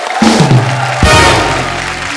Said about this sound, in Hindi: जोरदार तालियां एक बार ऋषि सर के लिए।